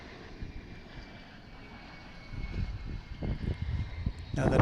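Airplanes at DFW International Airport produce a steady, broad engine roar that swells louder toward the end, heard from a distance with no clear talk.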